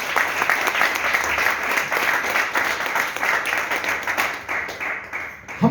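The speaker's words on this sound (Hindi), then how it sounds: "ग्रेट अपलाइन डिपल मैडम और नीलेश सर के लिए एक बार जोरदार तालियां।" Enthusiastic audience applause at a pinning carnival in a branch office, vigorous rhythmic clapping from a crowd that stays loud and sustained, with distinct claps standing out as it winds down.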